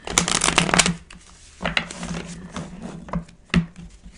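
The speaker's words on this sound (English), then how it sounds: "I'm going to pull one more card and see what else we can get from this Wheel of Fortune card" Tarot cards are shuffled in a long run of quick, dense riffling and rustling, followed by a few separate card snaps and slaps as cards are drawn and laid down, all close and fairly loud.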